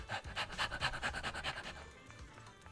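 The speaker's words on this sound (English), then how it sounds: "There's a cute pupper." Rhythmic, close panting from a dog in the Zenless Zone Zero video game, quick breathy pulses repeating steadily before easing off near the end.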